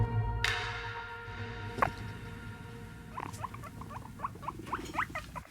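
Guinea pig squeaks and chirps, several short high calls in a loose cluster close to the mic, over a steady low background hum.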